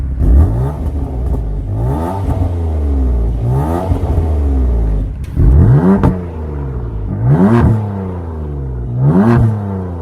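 A BMW M4 convertible engine revs repeatedly through its valved exhaust, each burst climbing in pitch then dropping back, with loud exhaust roar and crackle between pulls.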